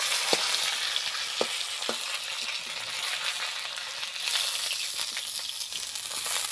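Fish fries in hot oil in a village kitchen, a steady close sizzle and hiss with a few sharp pops and crackles throughout, no voices.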